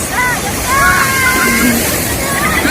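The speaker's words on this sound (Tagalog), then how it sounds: "Ang lalaki ng alon." Continuous sloshing and splashing sea waves surge loudly throughout at a beach in Zambales, Philippines, with voices and shouts of swimmers mixed in over the wash of the waves.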